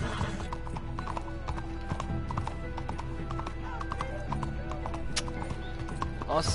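Horse hooves clip-clop at a steady riding gait in Red Dead Redemption 2, a continuous rhythmic clatter close up over an in-game ambient bed, with a brief whinny near the end.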